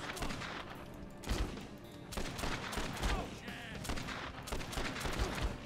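Rapid bursts of gunfire in the video game Dead Rising 2, dense and loud repeated shots with chaotic game effects, while a voice is faintly audible in the mix.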